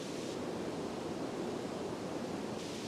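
Water pouring down into the bottom of the gorge at Rumbling Bridge Gorge, a steady, dense rush of broadband noise that holds even throughout, alone with no voices.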